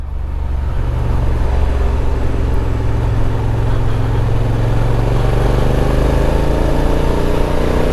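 A Honda NT1100 motorcycle in DCT Sport Mode 3 drones loudly and steadily while riding, its engine note rising gradually, with heavy wind rush throughout.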